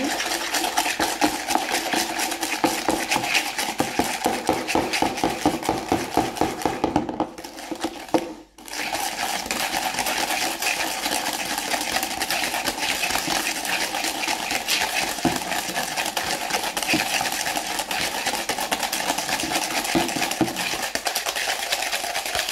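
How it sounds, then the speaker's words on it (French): Eggs and sugar being mixed in a bowl, most likely with a whisk: a fast, steady rhythmic whirring and tapping that runs close and loud, stops briefly midway and then resumes, with no voices. "on va mélanger nos œufs et notre sucre"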